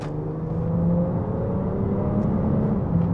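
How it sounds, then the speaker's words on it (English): Audi A5 3.0 TDI diesel with its exhaust backbox deleted, rumbling with a steady deep drone at low revs, close by and continuous for the whole stretch with no talk. "Sound immense for a diesel,"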